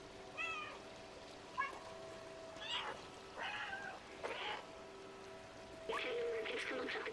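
A cat in the video game Stray meows several times in short, separate calls, close and clear over a steady ambient game background.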